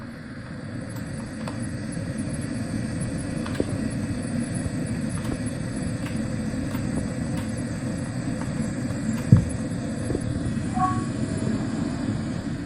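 Thomas the Tank Engine runs in a train driving video game, a steady low rumbling engine drone with rhythmic clicks over it, a brief louder thump near the end, no talking.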